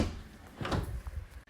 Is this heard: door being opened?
yes